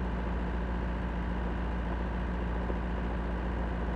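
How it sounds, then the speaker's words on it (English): A tractor engine in the farming game Pure Farming 18 runs at a steady idle, a continuous low rumble that holds even and unbroken throughout with no talking. "The sound of that engine, I like that."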